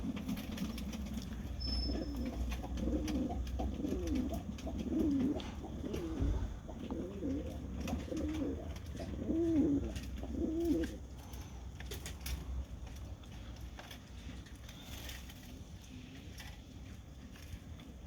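Pigeons coo on a rooftop terrace, repeated soft throaty calls rising and falling over a low outdoor background with occasional wing flutters and knocks.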